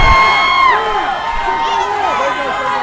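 A crowd at an MMA fight between Brandon Maynard and Adam Gould roars and shouts steadily under a commentator's voice, with rising whoops from the spectators.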